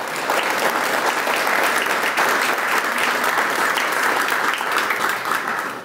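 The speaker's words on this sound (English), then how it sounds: "So let's give him stand up and give him a big clap." A ceremony audience at a recreation center ribbon cutting applauds the outgoing mayor, a dense, steady wash of clapping from many hands that holds level throughout.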